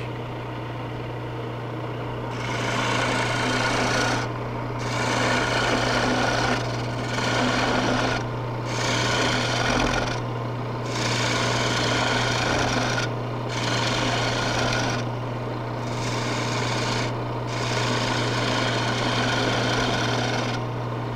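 A wood lathe turns a baluster as a 1/2 inch gouge makes big sweeping cuts, with a constant motor hum under loud, evenly spaced cutting bursts that repeat for about twenty seconds.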